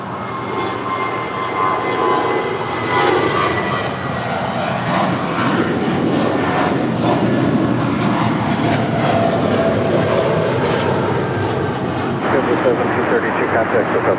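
A JetBlue airliner, flight 1732, departing LAX for Salt Lake City makes a loud, sustained engine roar that swells slightly toward the end, with talk running over it.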